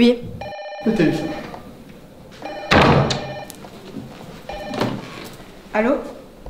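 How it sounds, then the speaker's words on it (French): A telephone rings in repeated electronic bursts, loud and close, alternating with short spoken exchanges and a thump between rings. "Le téléphone."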